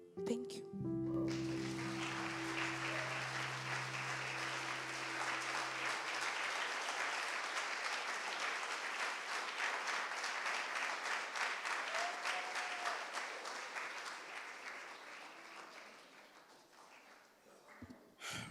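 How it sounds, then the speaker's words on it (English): An audience at the Poetry Africa festival applauds a poetry reading with loud, sustained clapping that fills the room and slowly fades near the end, with a voice briefly at the start. "I think we should give it a big round of applause"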